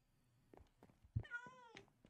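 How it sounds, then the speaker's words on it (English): A single short meow from a cat in Minecraft, heard fairly quietly over a low game background. "And we got cats all over the place to avoid phantoms and creepers spawning."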